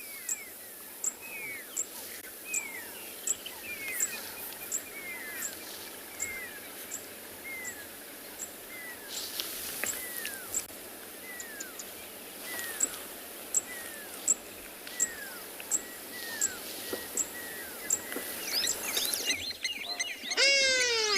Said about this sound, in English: You can hear the zitting cisticula.